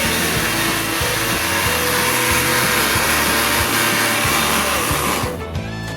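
A kitchen mixer grinds biscuits loudly and steadily with a rattling whirr, then winds down near the end.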